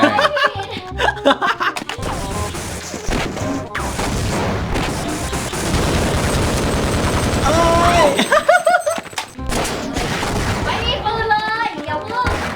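Charged weapon fire from the game Half-Life, a dense burst of blasts sustained over several seconds, loud and close, broken by brief gaps, with a person talking and laughing over it.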